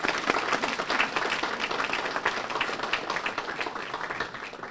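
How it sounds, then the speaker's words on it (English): An audience at a student research day event applauds students and faculty, a dense continuous round of clapping that stays strong before easing slightly at the end. "Let's give our students and faculty a round of applause."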